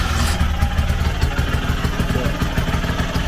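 A Vespa 50 Special scooter's small two-stroke engine runs after ten years of sitting, a steady close, loud buzzing idle with rapid clattering firing pulses and slight revs, no voices over it.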